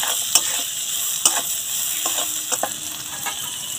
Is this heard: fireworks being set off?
no